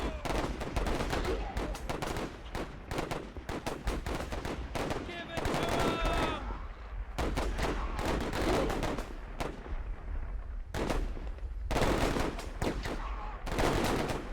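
Rifle volleys in the strategy game Warfare Legacy, bursts of massed gunfire crackling in repeated clusters separated by short quieter gaps, loud and close.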